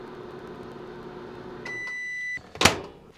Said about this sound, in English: Microwave's going.